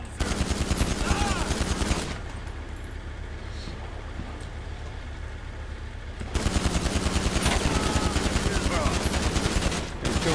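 Rapid automatic gunfire in the video game GTA 5 Online bursts loudly in two long sustained volleys with a brief quieter stretch between them, heavy and close.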